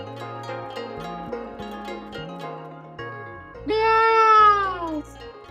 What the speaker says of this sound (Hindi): बिल्ली है यार,